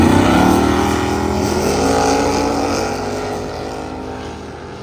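At a drag race, a naturally aspirated 350 V8 street car runs against a 1973 Toyota: a loud, close engine howl with rising and sliding pitch that gradually fades as the cars pull away.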